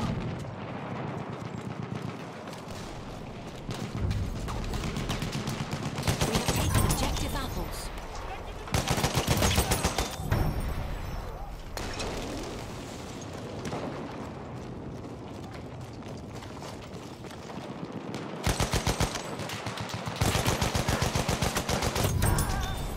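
Enemy machine gun fire in Battlefield 1 bursts repeatedly in dense rattling volleys amid battlefield noise, loud and close at times, with game voice callouts heard between bursts.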